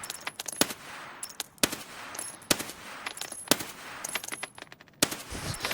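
Single gunshots from a weapon in the game Interchange, fired one at a time at irregular intervals, sharp and loud against a busy background of faint clinks and rattles.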